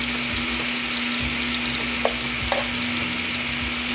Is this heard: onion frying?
yes